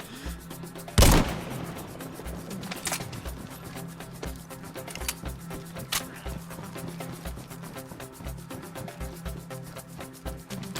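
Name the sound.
gunshot in DayZ video game on PS5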